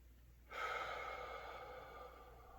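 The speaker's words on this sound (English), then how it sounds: "Now we're going to take our deep breath in." A deep, audible inhalation drawn in close to the mic before a pistol shot, starting abruptly and holding steady as a long breathy rush in a quiet setting.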